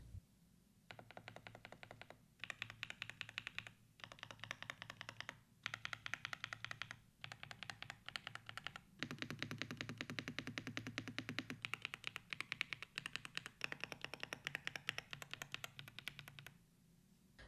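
Steady typing on a YUNZII AL68 mechanical keyboard with Cocoa Cream switches, close and clear, with rapid clacky keystrokes in bursts separated by brief pauses and no talking.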